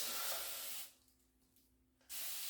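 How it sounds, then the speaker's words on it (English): A spray bottle mists water inside a shower cap, two loud hissing bursts separated by a short pause, close by and with no talking. "spray inside this"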